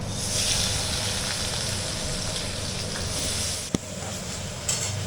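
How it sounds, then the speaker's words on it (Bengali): Paneer pieces frying lightly in a pan give a steady, close hiss of sizzling oil throughout, with a single sharp clack near the end. "এবার পনিরগুলোকে একটু সামান্য করে ভেজে নেবো"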